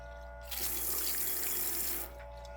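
Water pours through a portable shampoo sink while hair is washed, a steady close hiss of flowing water that starts abruptly, runs for about a second and a half, then stops over a faint low hum.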